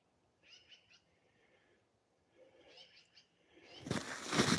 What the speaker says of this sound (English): What do you birds got?